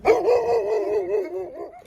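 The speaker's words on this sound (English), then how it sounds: "So it looks like I've run into some dogs" A chained dog in a tiny desert town gives a loud, close, drawn-out barking howl that wavers in pitch for about two seconds, with no talking over it.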